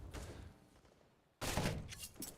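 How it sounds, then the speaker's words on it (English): Mag-7 shotgun fire in a Counter-Strike match, faint and muffled: a low rumbling stretch, then a sudden sharper blast-like burst with a short tail, heard at a distance in the game mix. "Was that a Mag 7?"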